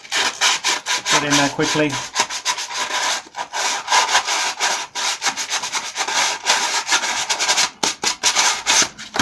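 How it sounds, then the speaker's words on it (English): Sandpaper rubbed hard over a rough stormtrooper armour part, a loud, continuous scratchy rasp in quick back-and-forth strokes with brief pauses, close up, with a short spoken remark near the start. "This is still rather rough, so we take some sandpaper."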